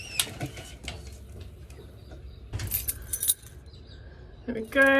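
A set of camper trailer keys jangles in short metallic bursts near the end, after quieter handling noises and faint bird sounds in the background.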